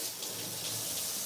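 A kitchen tap runs steadily to rinse a pineapple, giving a continuous, close hiss and splash of flowing water without pauses or voices.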